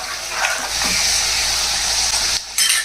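Chana dal and broken dried red chillies frying in hot oil in a pan, a loud, steady hiss and sizzle with a brief dip near the end before the crackle resumes.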